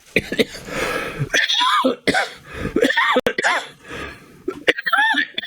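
Several harsh coughs in quick bursts, close to the mic, with a throat-clearing sound mixed in among brief pauses.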